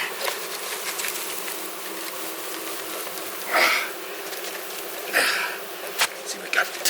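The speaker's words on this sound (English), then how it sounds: "Because there's a ton of bees left in there." A swarm of honey bees in a hive drones with a steady, close buzz throughout, and brief rustles and bursts of louder buzzing rise above it.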